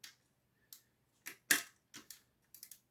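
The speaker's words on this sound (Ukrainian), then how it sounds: "і ключа або викрутки просто відкручуємо без особливих зусиль задні болти" Rear bolts on an electric scooter being loosened with a bit and screwdriver: a series of sharp, short metallic clicks and ratchet-like ticks at irregular intervals, close and fairly quiet, with no voices.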